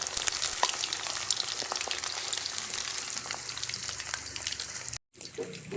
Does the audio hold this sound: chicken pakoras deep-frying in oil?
yes